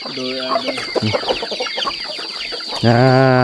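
A farm chicken clucking loudly and close at a Thai cornfield, a run of quick choppy clucks followed by a drawn-out squawk, with a voice talking partly over it.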